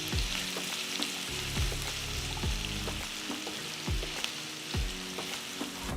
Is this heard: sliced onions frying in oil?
yes